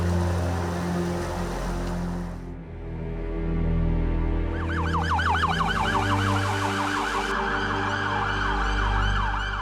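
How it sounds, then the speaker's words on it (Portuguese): A loud siren in Petrópolis, Brazil, wails close by, first a steady tone, then a rapid rising-and-falling yelp cycling continuously over engine rumble. "A gente se acostuma com o barulho da sirene."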